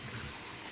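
Three quarters of a cup of water is poured from a measuring cup, making a brief, steady splashing gush that sounds fairly soft and close.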